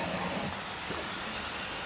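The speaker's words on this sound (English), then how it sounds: "Take can brake clean, spray everything down really good." Brake cleaner sprayed from an aerosol can over the sealer and oily residue on a Toyota engine, a steady loud hiss that holds unbroken for about two seconds with no talk.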